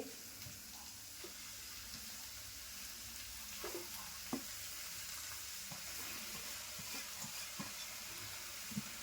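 Drumstick leaves stir-fry in a pan, making a faint, steady sizzle with occasional soft clicks and scrapes from a spatula.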